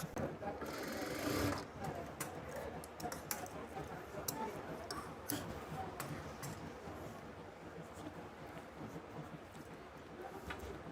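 Sewing machine stitching palazzo pants at home, fairly quiet with a brief louder burst near the start, then soft intermittent ticking and clicking of the mechanism as fabric is handled.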